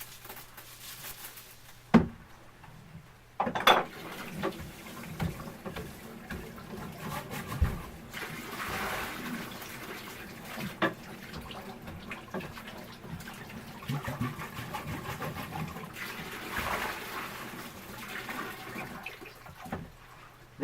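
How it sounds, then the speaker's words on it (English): Black copper cleaning sludge from an antique bottle tumbler is dumped into a yellow pan. It makes a wet, splashy pouring sound in uneven gurgles and sloshes, close by and fairly quiet. "I take this mess here and I dump it in that yellow pan"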